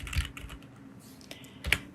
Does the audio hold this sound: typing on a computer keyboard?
yes